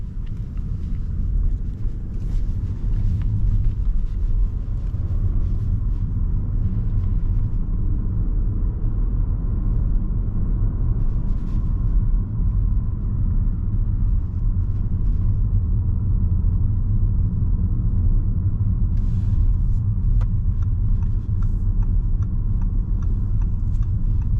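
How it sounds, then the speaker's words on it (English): An Audi RS7 on a night drive gives a continuous deep, loud engine rumble heard from inside the car, steady throughout with only faint higher noise above it. "the backfires are pretty cool"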